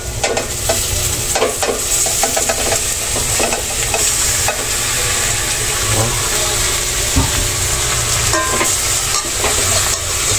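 Pork innards for dinuguan sauté in a hot pan, a loud continuous sizzle with frequent scraping and stirring strokes, close up, with a steady low rumble in the background.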